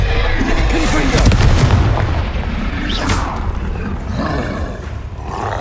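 Confringo, a blasting-curse spell in Hogwarts Legacy, goes off as a loud, booming explosion with a roaring rumble. The blast swells early, then settles into a sustained, noisy roar that carries on to the end.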